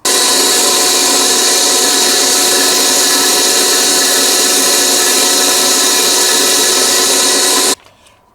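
Sixty-grit sandpaper wrapped on a paint stick rasps continuously and loudly for about eight seconds, then stops abruptly, leaving faint quiet.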